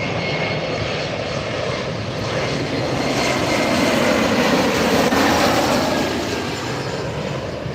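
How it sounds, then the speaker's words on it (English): Hawaiian Airlines jet airliner taking off from the south runways at LAX, a loud, steady broadband engine roar that swells slightly through the middle and holds without a break, with no voices. "I see Hawaiian Air taking off on the other side."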